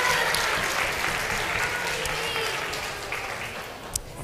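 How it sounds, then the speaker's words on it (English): A synagogue congregation gives sustained applause at a service, dense steady clapping from a large crowd that fades slightly toward the end. "Yes, we can give her a round of applause."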